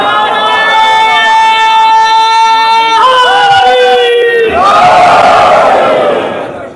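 A large crowd at a Shia majlis gathering roars religious slogans in unison, loud and sustained, with drawn-out chanted calls shifting pitch before breaking into a broad cheering swell that fades at the end.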